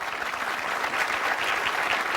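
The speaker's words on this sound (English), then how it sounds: "Thank you for the round of applause." A short burst of dense audience applause at a Republican presidential town hall in Columbia, South Carolina, loud and steady without speech.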